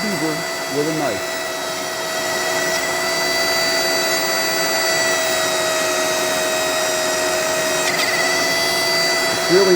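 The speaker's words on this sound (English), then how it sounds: "Just that the dremel makes bigger, faster cuts." A Dremel rotary tool power-carves a wooden beaver, giving a steady, close high-pitched whine that runs unbroken for about ten seconds with a brief change in pitch near the end.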